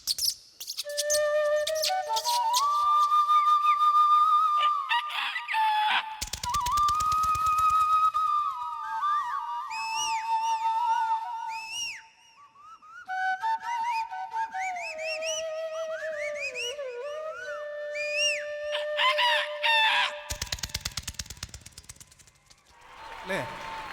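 A mimicry artist's voice imitates a chorus of morning birds and a rooster crowing: long whistled tones and quick warbling chirps follow one another, with bursts of applause near the start and again toward the end.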